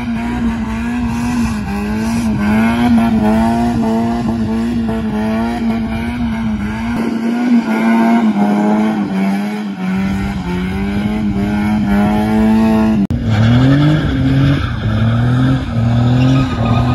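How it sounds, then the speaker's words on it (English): A Nissan 300ZX drifting, engine revving hard and steady under long sustained tire squeal, loud and close, with a shift in engine pitch near the end. "we'll be drifting the Z and the S2K"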